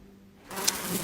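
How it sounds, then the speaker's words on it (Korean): A swarm of flies buzzes as a sound effect, a dense, steady droning hum that starts abruptly after a quiet moment and continues loud and close to the end. "파리떼가 애굽 땅에 득슬거리기도 했어요."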